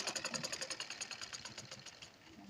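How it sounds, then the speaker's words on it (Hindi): Sewing machine stitching a firm seam along a blouse border, a fast steady mechanical whirr with rapid even needle ticks, close and moderately loud with no talk. "अब यहाँ से हम पक्की सिलाई लगाएंगे, क्योंकि यहाँ पर तुरपाई नहीं लगाते हैं।"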